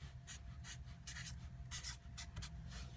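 Pen strokes on paper while working through a linear algebra proof, a quiet sequence of short scratching bursts in an irregular rhythm, close to the microphone.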